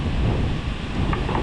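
Strong wind rushes and buffets the microphone in a steady, loud roar, with no clear talking.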